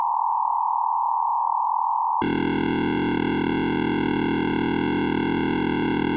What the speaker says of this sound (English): Where a shepherd tone is a tone that appears to infinitely rise or infinitely fall